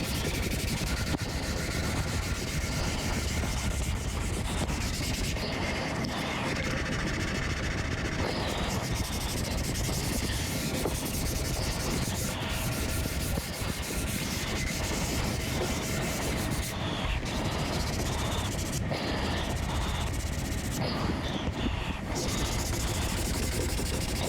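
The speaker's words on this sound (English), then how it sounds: "I'm going to hand sand, as I said." Hand sanding on wood gives a steady, close rubbing and scraping that goes on throughout, over the constant hiss of an air cleaner running in a workshop.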